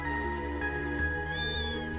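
A cat in the video game Trails Into Reverie gives a drawn-out meow over a steady, sustained game music bed, fairly close and clear.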